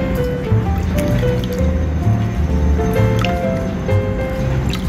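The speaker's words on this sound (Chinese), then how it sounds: "加适量水" Water is poured into beaten eggs in a bowl, giving a close, steady splashing and trickling stream that lasts the whole moment without any talking.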